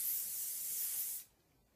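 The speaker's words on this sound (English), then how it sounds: "And then I'm going to hairspray." Hairspray hisses from an aerosol can onto hair for a vintage pin-up style, one steady close spray of about a second that stops sharply, with no talk.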